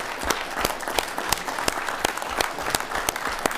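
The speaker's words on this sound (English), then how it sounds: "we owe you all a round of applause" Round of applause from the audience at a city council meeting, a steady patter of clapping from a modest crowd with sharper individual claps standing out throughout.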